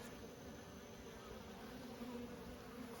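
Bees buzz steadily at the entrance of a brown and white beehive, a dense, continuous hum from many insects close by, holding an even level throughout with no voices.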